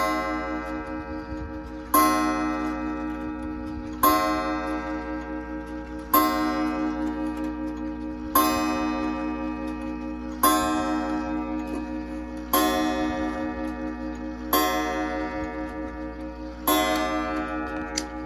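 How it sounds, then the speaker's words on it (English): A mechanical clock strikes one chime after another at a slow, regular pace, about every two seconds, with each tone ringing out and fading and a faint ticking underneath, close and clear with no voices. "Uh-oh, that's not chiming the right amount of times."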